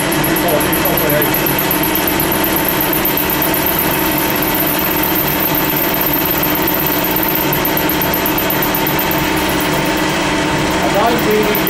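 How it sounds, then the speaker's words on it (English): A machine motor turning at 400 rpm while machining an output gear for a cycloid drive hums loudly and continuously throughout, a steady droning whine with faint talk underneath. "And we have engines rotating 400 revolutions per minute, and not faster than that."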